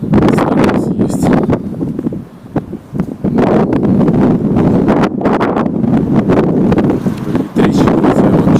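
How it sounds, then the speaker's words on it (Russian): Strong wind blasts the microphone in loud, ragged gusts, with brief dips between the surges. "Ветрище вообще."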